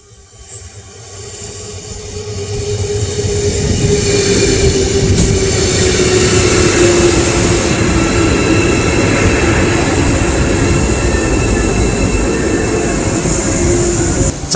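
A new high-speed train pulls into a platform with safety doors, its rumble swelling over the first seconds and then holding loud and steady with a high metallic whine.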